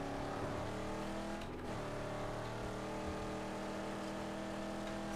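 A car in the Mad Max video game drives with a steady, droning engine tone that holds throughout, with a brief dip in the middle, loud and continuous.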